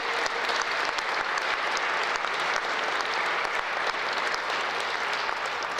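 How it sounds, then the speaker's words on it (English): Sustained applause from a crowd honoring organized labor at an O'Hare airport modernization completion ceremony, dense even clapping that holds steady throughout. "Let's give them a round of applause for all that they have"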